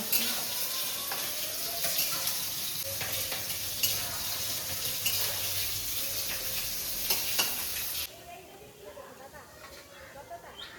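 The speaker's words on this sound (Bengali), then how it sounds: "মাছটা ভাজা হচ্ছে" Fish frying in a pan at an outdoor home cook-up produces a loud, continuous sizzle with crackling pops, then drops abruptly to a quieter background of faint sizzle and scattered clicks.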